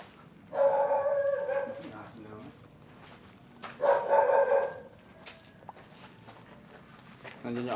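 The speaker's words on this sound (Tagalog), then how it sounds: "Nandiyan yung aso." A dog barks in two loud bursts around a cemetery at night, with footsteps and people talking nearby in between.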